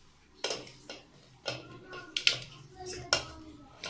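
A quarter kilo of tamarind dropped into a cooking pot, several sharp clatters and knocks of the pot and utensils at irregular intervals, close by with no talk.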